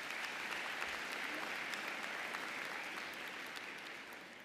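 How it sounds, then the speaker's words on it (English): Graduates at a University of Illinois Chicago commencement ceremony give a big round of applause, a thick continuous roar of clapping from a large crowd that stays loud and even throughout. "So give yourselves the biggest round of applause yet."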